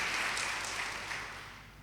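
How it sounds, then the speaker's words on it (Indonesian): Church congregation applauding during a Sunday service, a faint, distant wash of clapping that gradually fades over under two seconds. "beri tepuk tangan buat Tuhan Yesus"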